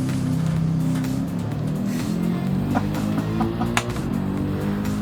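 Mercedes 190E race car with a swapped Mercedes-AMG GT3 engine in Gran Turismo 7, droning steadily at high revs throughout with shifting engine tones and brief sharp transients, loud and continuous with no talk.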